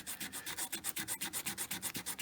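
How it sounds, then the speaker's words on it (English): Rhythmic back-and-forth rubbing of 220-grit sandpaper along the beveled edges of a hammered-texture metal ring, about a dozen quick, close, even strokes with no talking. "sand the edges a little bit where it's beveled, like so"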